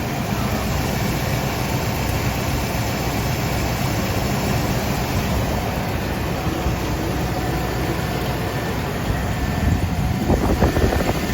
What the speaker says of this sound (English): Exhaust tick. Seems like it's from both sides